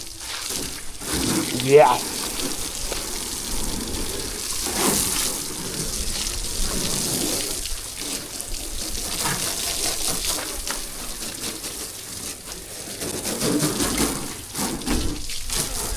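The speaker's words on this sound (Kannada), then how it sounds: "ಈಗ ಪೈಪಲ್ಲಿ ಹೊಡಿತಾ ಇದ್ದೀವಿ ನೀರನ್ನ." Water sprays from a hose pipe, likely washing a vehicle, as a steady broadband hiss that runs throughout at moderate level, with brief louder gushes and some talk mixed in.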